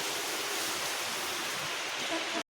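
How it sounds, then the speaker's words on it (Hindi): Water pours into a bath in a continuous, even hiss of running and splashing water at close range for a couple of seconds, then stops abruptly. "अभी भी इस महाम में पानी डाल रही है"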